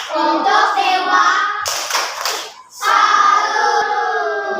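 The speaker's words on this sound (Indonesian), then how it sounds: "Tepuk salut untuk kelompok 5." A primary school class performs a rhythmic tepuk salut clapping cheer for a student group, with children's voices chanting in unison over bursts of clapping, a short clap break in the middle, then more chanting.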